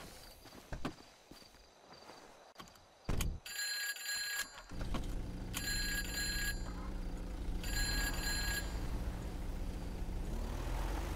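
A telephone rings in repeated bursts of a bright electronic trill, heard close, over a rumbling background of traffic and street noise.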